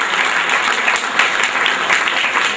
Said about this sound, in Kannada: ದಯವಿಟ್ಟು ಸುಭಾಷ್ಗೆ ಇನ್ನೊಂದು ಸಲ ಚಪ್ಪಾಳೆ ಹಾಕಬೇಕು.